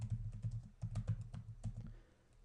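Steady typing on a computer keyboard, close and fairly quiet, with irregular bursts of light key clicks for about two seconds before tapering off.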